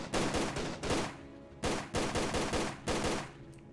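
Rapid bursts of gunfire from an enemy wielding two guns in Tomb Raider: Angel of Darkness, loud and close, coming in several clustered volleys separated by brief pauses, with no voices over it.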